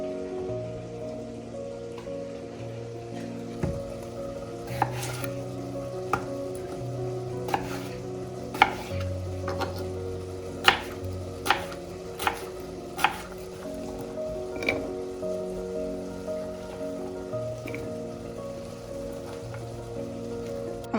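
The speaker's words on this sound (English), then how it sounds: "I'm also gonna chop up 1 red onion to put into this salad." Knife chopping cucumber and red onion on a board for a vegan salad, a series of sharp irregular taps spread across the stretch over steady background music, close and moderately loud.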